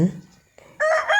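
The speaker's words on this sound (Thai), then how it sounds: "ฟังเสียงไก่ขัน" A rooster crows loudly and close by in one long drawn-out call, at early morning in the countryside, after a brief low rumble and a moment of quiet.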